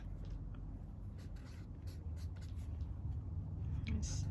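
A pen or marker scratching out chemical structures during a chemistry lesson, short faint strokes in quick irregular bursts over a low steady background hum.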